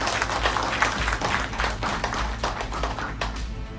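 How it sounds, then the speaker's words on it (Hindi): Sustained applause from an audience at a motivational business talk, dense rapid hand clapping filling the whole stretch at steady loudness with a faint murmur of crowd underneath. "एक बार जोरदार ताली हो जाए सभी लोगों के"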